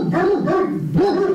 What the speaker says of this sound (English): Bark, everybody bark.